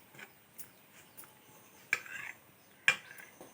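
Curry leaves being stirred into a prawn and drumstick curry in a pot, with soft scraping and a couple of distinct metallic clinks of a spoon against the vessel, quiet and close.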